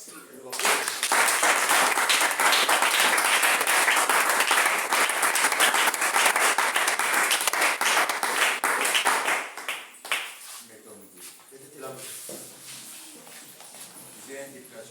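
Congregation in a church applauding together, a dense sustained burst of clapping for about ten seconds that then thins out into scattered claps and murmuring voices.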